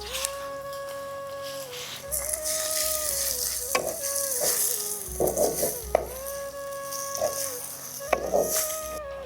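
Onion and tomato fry in a pan for a Rajasthani moong dal baati masala, with a steady close sizzle broken by several sharp stirring scrapes and clinks of a spoon against the pan.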